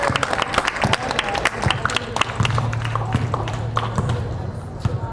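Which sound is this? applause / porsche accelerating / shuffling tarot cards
applause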